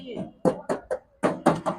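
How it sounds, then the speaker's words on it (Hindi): Knuckles rap several times on the door of a 2013 Suzuki Carry Bolan van, sharp separate knocks in uneven clusters, close and fairly loud. "बिल्कुल जेन्युइन दरवाज़ा है, साउंड से आपको अंदाज़ा हो रहा होगा।"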